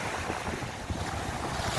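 Sea waves roll and wash steadily onto Bekal beach in Kasaragod, a continuous broad surf roar with gusting wind noise across the microphone and no voices.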